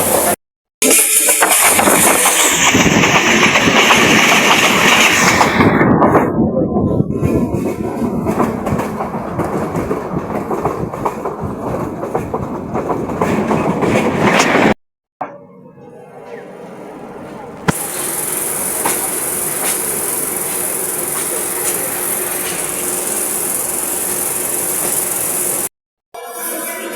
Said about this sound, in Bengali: আমরা এইমাত্র নামছি ট্রেন থেকে